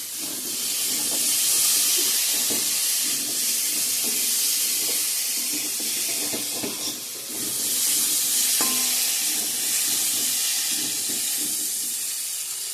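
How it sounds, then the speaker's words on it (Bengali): Potatoes and pointed gourd frying in a pan give a steady, close hiss and sizzle with occasional stirring clinks and crackles, holding constant for the whole stretch with no talking. "তো বন্ধুরা এদিকে আলু পটলটা ভাজিয়ে নিচ্ছি।"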